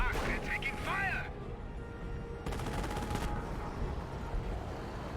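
Battle sounds from the World War II strategy game Company of Heroes: dense gunfire and artillery rumble underneath, with unit voice lines heard over them early on and a burst of rapid automatic fire midway.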